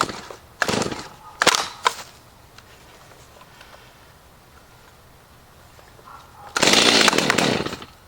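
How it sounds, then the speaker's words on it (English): A chainsaw being pull-started: a few sharp rasping pulls of the starter cord, then a quiet pause before the engine fires briefly in a loud, rough burst that dies without catching. "Okay, it fired off just a tad bit."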